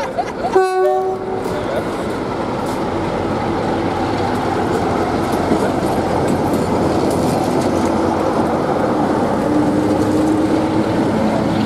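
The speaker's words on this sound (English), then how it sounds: "The train will be there in a second." The Lakelander steam excursion train, hauled by locomotive Braunton, sounds a short horn blast and then rumbles steadily past at close range, its rolling roar filling the rest of the clip.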